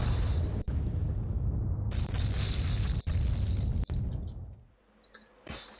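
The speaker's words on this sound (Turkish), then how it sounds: "Mekan patladı sanırım." A deep, sustained explosive roar with rumbling debris and a high whine in the video game Samurai Jack: Battle Through Time, then fading into quieter game ambience.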